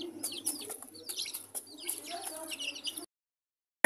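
An Aseel hen clucks in a series of short, soft calls alongside some chirping, close by but fairly quiet, before the sound cuts off.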